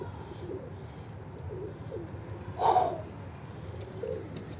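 Pigeon giving a single soft coo midway, faint and close against a low background hum, with a few quieter murmurs around it.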